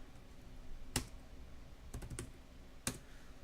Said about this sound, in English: Maybe I'll reach around here and type properly.